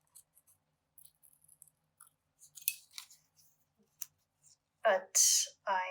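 Scissors snip carefully through paper while a curved shape is cut for a collage: sparse, quiet clicks and short slicing strokes that grow louder and longer near the end, close up with no talking.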